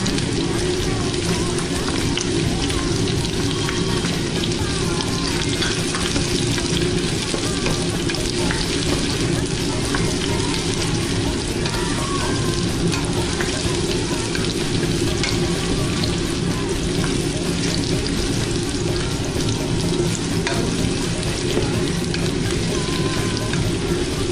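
Garlic added after onion to a hot pan for hototay sizzles and crackles in a dense, continuous fry, loud and close with occasional stirring, with no talking.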